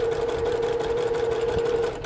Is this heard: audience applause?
no